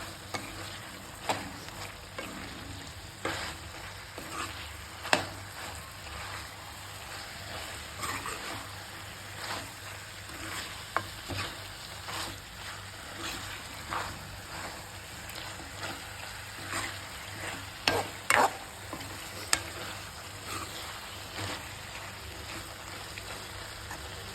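Chicken fry with coriander powder is stirred in a pan, a quiet steady sizzle broken by frequent scraping clicks of the spoon, close and with no talking.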